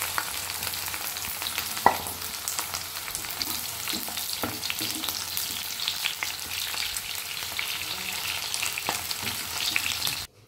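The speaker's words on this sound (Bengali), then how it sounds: "আমাদের এটা ভাজা হয়ে গেছে," Green chilli, ginger and garlic fry in a pan with steady, dense sizzling and crackling that lasts throughout, with a few sharper pops and light stirring sounds. No one talks.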